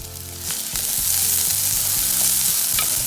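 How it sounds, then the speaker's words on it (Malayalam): Shallots, ginger and green chilies sautéing in hot oil, a loud steady sizzle with a few faint clinks of stirring near the end. "ചെറിയ ഉള്ളി, ഇഞ്ചി, പച്ചമുളക്. ഓക്കെ, ഇനി ഇത് നന്നായിട്ട് വഴറ്റുന്നു."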